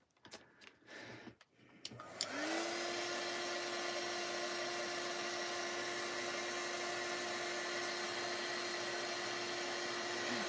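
A heat tool or dryer switches on after a couple of seconds of quiet handling noise and runs as a loud, steady whirring hum through the rest of the clip while drying a craft piece, with no talk over it.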